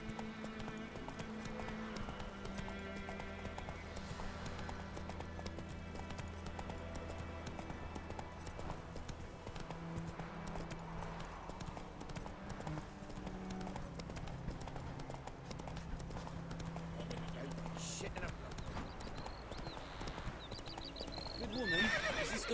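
Roach the horse clip-clops along at a steady walk in The Witcher III, the hooves joined by an occasional whinny, all beneath a soft music and ambience bed.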